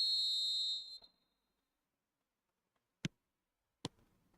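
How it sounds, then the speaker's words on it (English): Referee's whistle blown to start a match in the eFootball video game, a bright sustained tone of nearly a second, followed after a pause by two brief sharp clicks. "There's the whistle"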